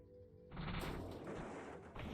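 Explosion in the space-combat game Hullrot SS14, a sudden heavy blast swelling into a loud, sustained roar of rumbling debris and crackling that lingers for well over a second.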